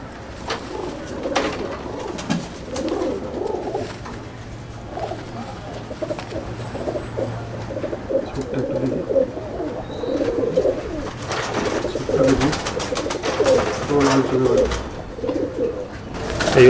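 Chennai breed pigeons coo steadily inside a loft at Andul, Howrah, a layered chorus of soft throaty calls close by, with a few sharper wing flaps and movement noises toward the end.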